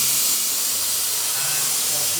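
Compressed air line blowing across the front of a Range Rover Evoque windscreen during a leak check, a steady, close broadband hiss that runs unbroken throughout.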